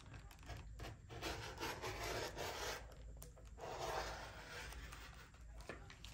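Rotary-style trimming of quilt fabric along a ruler on a cutting mat, heard as continuous close rubbing and scraping strokes with a dry, gritty texture, no speech over it.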